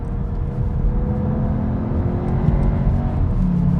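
A Cupra Leon braking hard and cornering, its engine and road rumble heard steadily from inside the car, loud and continuous with no talk.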